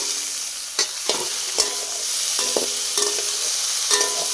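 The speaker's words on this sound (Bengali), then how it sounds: "এবার এটাকে খুব সুন্দর করে আমরা নাড়বো।" Egg and potato curry being stirred and fried in a pan, with a steady broadband sizzle and about half a dozen distinct scraping stirs at uneven intervals, close and moderately loud with no talking.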